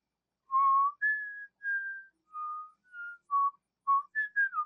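A whistled melody, the key's tune from the 1987 film Masters of the Universe, in short separate notes with brief pauses between them and a quicker run of notes at the end, clear and alone.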